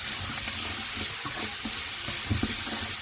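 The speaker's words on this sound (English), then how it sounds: "I'm going to stir this through." Seasoned corn being stirred in a pan with salt, onion salt and garlic salt, a steady loud hiss of frying with soft irregular scraping strokes underneath, close and continuous with no speech.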